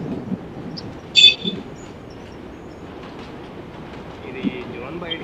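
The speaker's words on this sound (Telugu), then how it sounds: "ఆపోజిట్ ట్రైన్ వస్తుంది." A train rumbles past in the battle royale game BGMI, heading the opposite way, as a steady low rail roar with a few brief louder clanks and squeals over about five seconds.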